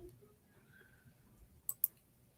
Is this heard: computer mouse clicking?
yes